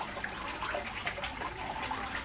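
Water flushes through an aquaponics grow bed fed by a small 12–14 watt aquarium pump, a continuous close trickling and gurgling wash with no voices.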